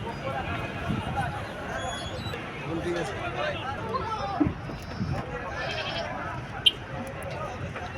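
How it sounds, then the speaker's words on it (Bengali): Goats and sheep bleat intermittently amid the crowd at a Dubai livestock market, short wavering calls set against steady background chatter and bustle, with a couple of sharp knocks. "বেড়া আছে, ছাগল আছে, গরু আছে"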